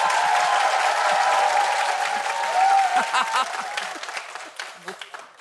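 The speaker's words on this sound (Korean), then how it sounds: "박수 함성 주세요" A studio comedy audience bursts into loud applause and cheering, sustained at first and then thinning into scattered claps and voices.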